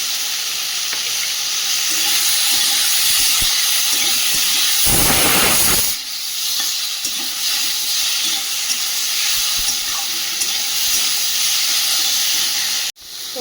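Loud, steady sizzling of vegetables frying in a pan with coriander powder, close up, with a brief surge of stirring and hissing partway through before the frying continues evenly to an abrupt stop.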